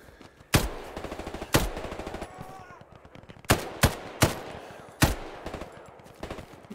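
Gunfire in the Hell Let Loose war game: sharp, loud rifle and machine-gun shots crack out singly and in short bursts over a low rumbling background, irregularly spaced, with no speech.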